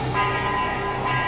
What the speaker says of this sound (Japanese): なぜか鐘が鳴ってる。